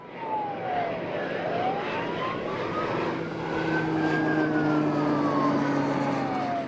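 Firefighting aircraft flying overhead during a summer aerial demonstration by emergency services, a steady broad engine roar with a rising and falling drone that swells as it passes, no talking.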